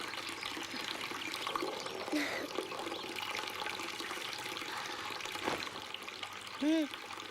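Tap water runs steadily from a faucet during teeth brushing at home, a continuous splashing trickle in the background with a voice speaking over it and a brief tonal sound near the end.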